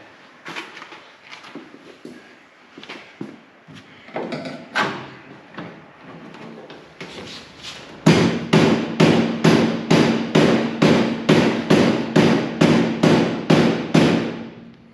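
Steady hammer taps ring out in a regular rhythm, about two per second, loud and close, after a stretch of scattered softer knocks and clatter.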